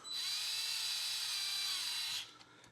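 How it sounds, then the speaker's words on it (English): A DeWalt power drill runs at a steady high whine for about two seconds, close and loud, used while assembling wheels, then spins down and stops, leaving quiet room tone. "I'm really liking this Dewalt drill."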